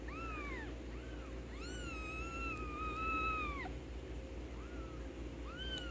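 A female kitten being handled gives a run of high, thin meows, several short ones and one longer drawn-out call, fairly faint over a steady low background hum.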